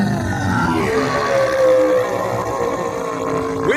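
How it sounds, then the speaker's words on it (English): An audio drama effect of a whale bellowing with rage: a sustained, loud, rumbling roar with a grunting, growling texture that holds steady for several seconds, close and alone with no talk. "With a bellow of rage, the whale discovered that his jaws were open."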